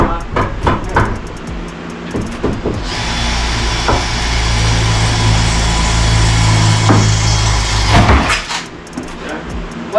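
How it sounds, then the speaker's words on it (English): Power drill pre-drilling holes to screw a panel onto a 2x4, a sustained whirring run of several seconds framed by clicks and knocks of handling wood, close by. "What I'm doing right here is pre-drilling these holes so that we can screw the panel into the 2x4."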